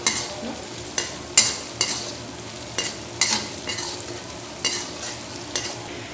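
Onions sizzle in hot oil with ginger and garlic added, a steady fry punctuated by roughly ten sharp scrapes and clinks of a spoon stirring the pan, close and without talk.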